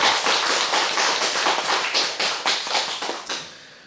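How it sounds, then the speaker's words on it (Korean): An audience at a church ceremony claps in thanks: dense, lively applause from many hands that stays strong, then thins out and tapers away near the end. "어머니께 우리 모두 감사의 박수를 보내주시면 너무나 좋을 것 같습니다"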